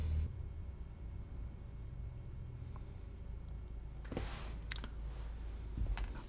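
A few sparse keystrokes, a quick cluster of clicks followed by a single later press, tapped on a computer keyboard while installing router software on an x86 machine, faint against a low steady hum.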